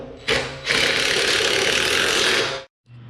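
A ratchet wrench tightening bolts on a Harbor Freight utility trailer during assembly, a loud close continuous rapid clicking run of over two seconds that stops abruptly, with a brief quieter sound after.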